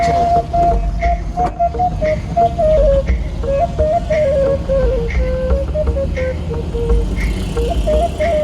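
A train rumbles past on the Depalpur to Lahore route in Pakistan with a continuous loud roar and rhythmic clatter, a tonal squeal riding over the noise throughout.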